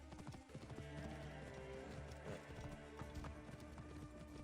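A horse clip-clops at a steady trot in the Assassin's Creed Origins video game, its hooves beating a continuous rhythm over a dense, busy ambient backdrop at moderate volume.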